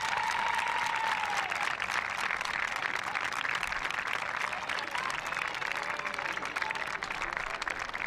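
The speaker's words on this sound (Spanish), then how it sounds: "Un aplauso." A crowd applauds the third-place men's team, Comunidad Valenciana, at an under-14 hockey trophy ceremony, steady sustained clapping throughout with a faint voice near the start.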